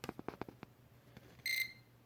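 A newly installed fire alarm gives one short, sharp, high-pitched beep, preceded by a few quiet clicks and taps from handling, with no voices.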